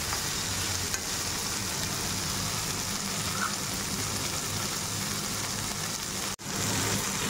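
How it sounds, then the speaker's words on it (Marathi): Green peas sauté in hot oil in a pan alongside softened tomatoes for a dhaba-style cauliflower and pea curry, a continuous close sizzle with a brief dropout near the end. "साधारणतः 2 ते 3 मिनिटं आपण हे वाटाणे यामध्ये परतणार आहोत।"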